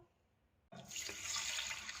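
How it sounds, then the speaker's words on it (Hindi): Water pours from a tap into a pot of uncooked rice for washing, starting abruptly after a short quiet moment and then running steadily and loudly to the end. "इसमें पानी शामिल कर देंगे और इस तरह से इसे अच्छी तरह 3-4 पानियों में धो लेंगे"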